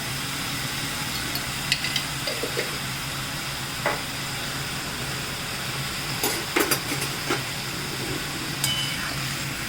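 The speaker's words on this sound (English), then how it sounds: "Give it a quick stir." Vegetables with ghee and turmeric sizzle steadily in a pan while a quick stir adds a few scattered scrapes and clicks, close and fairly loud throughout.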